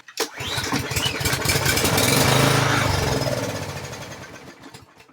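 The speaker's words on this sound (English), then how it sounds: "it started and dies" A small 4-stroke engine primed with a squirt of starter fluid cranks, catches and roars for a few seconds, then sputters and dies away, loud and close.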